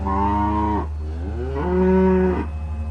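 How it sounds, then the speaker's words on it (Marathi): Cows and bullocks lowing beside a cattle shed, two long, loud harmonic moos in close succession with a brief pause between, no voices present. "गाई बैलांच्या आवाजाने जाग आली"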